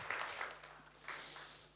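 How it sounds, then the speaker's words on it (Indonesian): A congregation applauds during a church worship service: steady, dense clapping that fills the room, fading slightly toward the end, with no clear talking over it. "kita berikan tepuk tangan yang meriah buat Tuhan ini"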